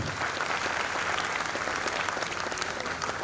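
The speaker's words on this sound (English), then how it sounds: "let us once again put our hands together for a big round of applause" A crowd claps steadily in sustained applause, a dense even patter of many hands filling the room without pause.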